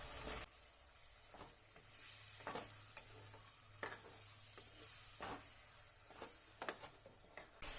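Onion paste fries in oil in a home kitchen for dhaba-style chicken gravy, with a soft steady sizzle and repeated scraping stirs of a spoon against the pan, fairly quiet throughout.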